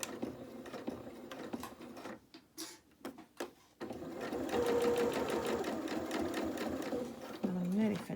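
A sewing machine chain-piecing fabric advent calendar pieces whirs in short bursts and then runs steadily and close, with someone talking over it.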